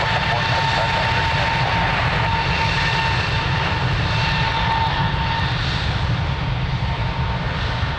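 Airliner taking off on runway 02 at Lisbon Airport, a loud continuous engine roar with a deep low rumble and a steady whine held throughout.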